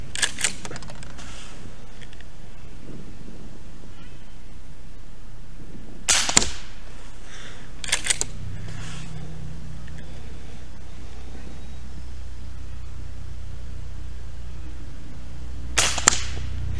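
An FN Browning Trombone .22 pump action rifle fires four or five sharp, sparse cracks, separated by long quiet gaps with faint handling noise, and no voices.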